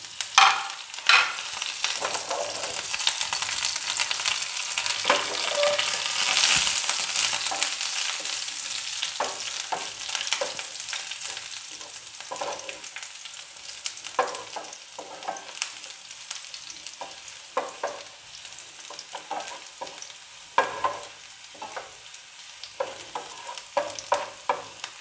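Chopped green chillies and curry leaves crackle and sizzle in hot oil for chicken 65, a continuous close frying hiss with frequent spatula scrapes and stirs throughout.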